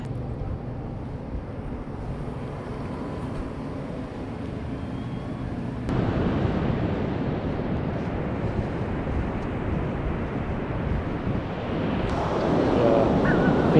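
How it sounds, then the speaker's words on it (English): Pacific Ocean waves at Cannon Beach, Oregon, a steady broadband wash of surf that grows louder and fuller partway through, mixed with wind buffeting the microphone and no talking. "the ocean, Pacific Ocean"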